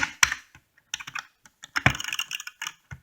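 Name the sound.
clicking buttons of a Wii game controller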